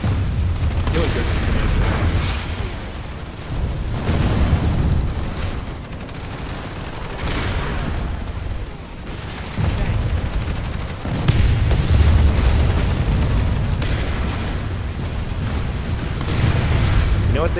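Grenade blasts and heavy gunfire rumble through a Planetside 2 battle, with repeated booming bursts and a continuous low roar of shooting; someone talks over the combat throughout.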